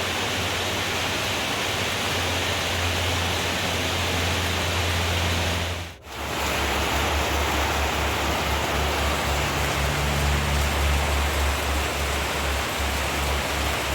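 Heavy rain pours down steadily in a dense, continuous roar, broken by one brief dip in the middle before resuming just as loud.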